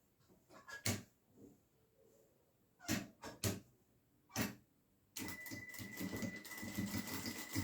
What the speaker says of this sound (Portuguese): faz uma costurinha em toda essa lateral aqui, para prender o bolsinho no forro